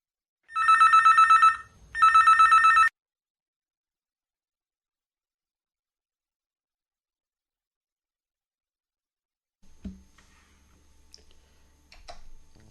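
A telephone rings twice in loud, close bursts for an incoming radio call-in listener, then the line goes quiet before faint handling clicks.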